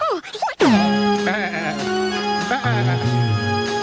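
Sheep bleating as a sound effect on a 1981 KFI Los Angeles radio broadcast, a series of loud wavering bleats in close succession, heard alone over a mixed broadcast backdrop.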